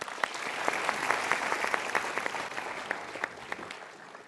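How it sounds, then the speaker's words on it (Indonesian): Studio audience applauds steadily as guests return to their seats on a motivational talk show, a dense wash of clapping with a few sharper claps standing out, fading slightly toward the end. "Berikan tepuk tangan sekali lagi."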